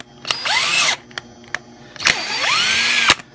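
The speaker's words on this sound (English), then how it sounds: "I always use a drill to tap" A power drill taps threads into copper in bursts: two sustained whining runs with the motor pitch sliding up and down, separated by clicks of the trigger and chuck, close and loud with no speech.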